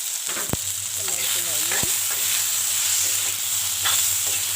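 Ridge gourd frying in a pan with ground spices, cumin, coriander, turmeric and salt: a steady close sizzle with a few sharp stirring knocks and scrapes, no talking.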